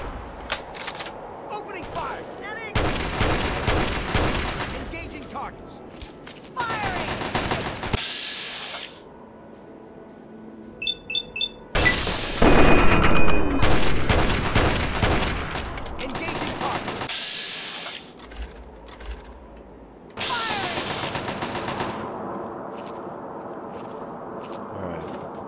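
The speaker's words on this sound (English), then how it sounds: "Opening fire! Getting! Engaging targets!" Video game gunfire from Fallout 3 in the Anchorage fireteam mission: long rapid bursts of automatic fire separated by quieter gaps, with clicking mechanisms. Shouted voice lines come through between the volleys.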